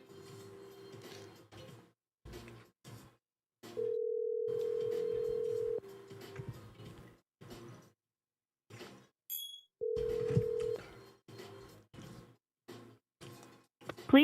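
A telephone call in progress with a steady dial tone and ringback beeps that pause and return, broken up by scattered handling clicks and a few quiet voices.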